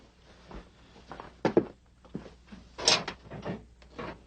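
A few sliding and knocking sounds from an office file drawer being pulled open, with soft bumps and rustles around it; close and moderately loud.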